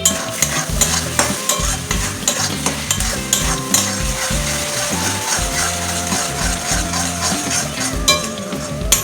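A sweet coconut mixture for Bengali narkel naru cooks in a pan and is stirred steadily, giving repeated rhythmic scraping strokes and a soft sizzle close up, with background music playing throughout.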